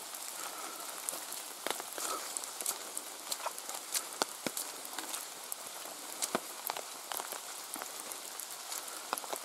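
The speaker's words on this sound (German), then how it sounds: "wir müssen den Schirm trotzdem jetzt aufhalten, weil natürlich die ganzen Tropfen jetzt hier von den Bäumen runterkommen" Water drops falling from trees after rain tap onto an open umbrella in a forest, an irregular close patter of sharp individual ticks over a soft steady hiss, with no talking.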